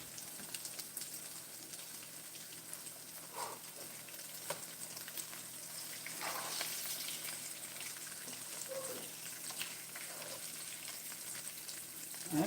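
Steady crackling sizzle of oyster mushrooms frying in hot oil, a continuous close hiss with occasional louder pops.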